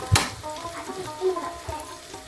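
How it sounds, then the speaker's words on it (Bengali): Onions fry in a pan with a light crackling sizzle, a sharp knock near the start and a few soft stirring scrapes scattered through the short stretch. "আচ্ছা পেঁয়াজটা ভাজা হইতে থাকুক"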